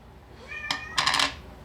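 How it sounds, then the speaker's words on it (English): A small cat meows twice in a workshop during a 50-ton jack repair, a short tonal call followed by a louder, broader second meow, fairly close and clear against a quiet background. "I hear that little cat."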